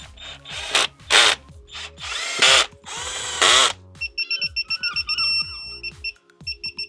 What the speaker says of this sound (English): So I'm going to nip it up first, quickly with a really, really weak drill, just to save time